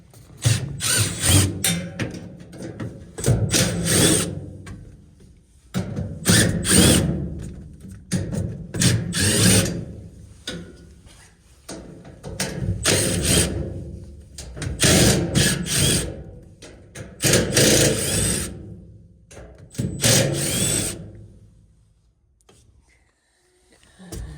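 A Bosch IDS cordless power tool backs screws out of an HVAC unit's supply plenum, whirring and ratcheting in repeated loud bursts a few seconds long, separated by short pauses, close up, ending in quiet.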